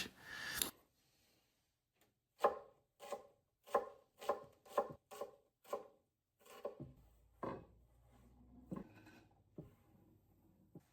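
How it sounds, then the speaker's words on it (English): An onion being chopped on a cutting board with a knife, about nine crisp, evenly spaced knife strikes, followed by softer scraping and a few scattered taps. Close and clear, with no talking. "we are going to chop this onion"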